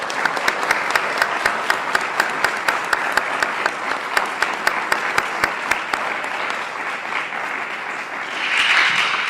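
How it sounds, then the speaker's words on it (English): An audience at a congressional candidates' forum applauds: dense, sustained clapping for several seconds that thins out toward the end as a louder rustle rises. "Please give them a round of applause."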